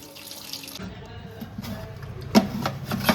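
Water is tipped and splashed out of a vessel while soaked wheat for kurdai gets fresh water, with a soft running trickle, a couple of sharp clinks of metal on metal, and some faint background voices.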